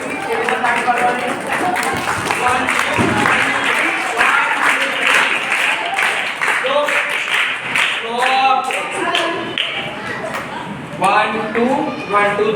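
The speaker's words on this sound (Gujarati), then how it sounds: "તમને લાસ્ટ ટાઈમ તાળી શીખવાડી હતી કેવી રીતે તાળી પાડવાની?" Audience applause and rhythmic clapping at a school event in Ghatkopar, a steady dense patter of many hands running throughout, with a voice speaking over it in places.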